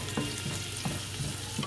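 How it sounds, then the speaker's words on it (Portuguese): Minced garlic sizzles in butter in a frying pan, a steady close crackle with a few soft stirring scrapes at regular intervals and no voices. "Esquente uma frigideira com um pouquinho de manteiga. Acrescente alho picado."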